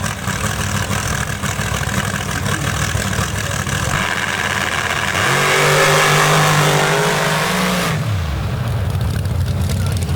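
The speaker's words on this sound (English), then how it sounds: "Jamie Suter in the 66 back on the line with 800 plus cubic inches of Ruhr & Morrison iron under the hood" An 800-plus cubic inch Ruhr & Morrison powered drag car, number 66, runs at a night drag strip in Mississippi. A broad track roar gives way to a sustained engine howl that holds, then drops away abruptly.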